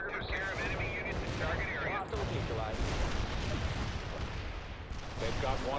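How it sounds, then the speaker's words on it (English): A World in Conflict battle fills the air with rapid gunfire and thudding explosions, loud and continuous, while someone talks over the din throughout. "Okay, there goes one heavy medium tank."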